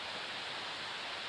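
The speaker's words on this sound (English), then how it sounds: "the sound of this waterfall, it's going to be hard to create video" A creek waterfall along a backpacking trail beside Panther Creek roars as a steady, dense wash of rushing water, loud and close, with no pauses or voices.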